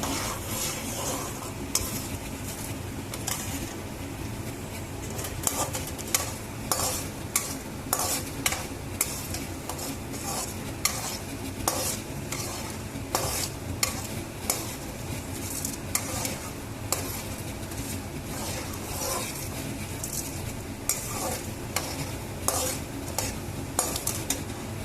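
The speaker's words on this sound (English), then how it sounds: "Keep stirring continuously till both the dals become brown in color." Dals fry in a pan with asafoetida while being stirred continuously, a soft steady sizzle under repeated scraping strokes of a spoon against the metal.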